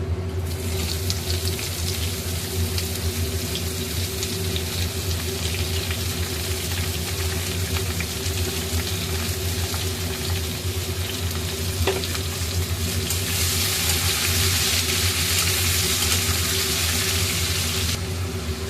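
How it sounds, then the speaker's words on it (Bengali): Chopped onion frying in hot oil, a dense continuous sizzle that grows brighter and louder toward the end, close up with no talking. "এরপরে দিয়ে দেবো কুচানো পেঁয়াজ।"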